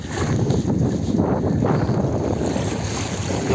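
Wind-driven waves surge on the flooding Saraswati river near Mukteshwar, a steady rushing wash of water with heavy wind buffeting the microphone throughout, loud and continuous with no voices.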